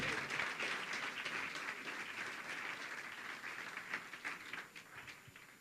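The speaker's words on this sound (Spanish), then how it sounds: "¿Cuántos pueden aplaudir al Rey?" A church congregation applauds together, steady dense clapping held at an even loudness throughout, with faint voices mixed under it.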